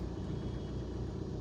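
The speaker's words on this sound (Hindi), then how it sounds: "और डीजल क्लैटर सुन सकते हो" A 2023 Tata Nexon diesel engine idles with a steady low rumble and faint rhythmic diesel clatter, close by and unchanging throughout.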